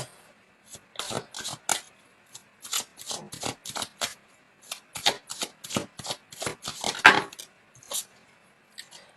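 Tarot cards shuffled by hand in repeated quick riffles and slaps, crisp, close bursts separated by short pauses, with no talk.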